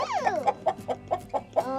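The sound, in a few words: chickens clucking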